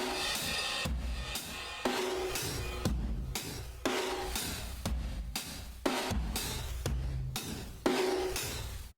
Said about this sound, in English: just some programmed drums using Native Instruments Drum Lab,